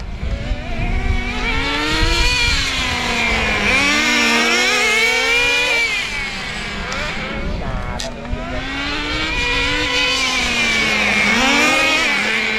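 A Traxxas JATO 3.3 nitro RC car drives around with a high buzzing two-stroke whine that rises and falls in pitch as it accelerates and backs off, loud and close throughout.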